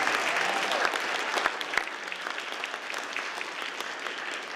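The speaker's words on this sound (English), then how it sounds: "Big round of applause for the hard work they did." An audience at a community college gathering applauds in a dense, continuous round, a few sharper claps standing out early before the sound settles into an even wash.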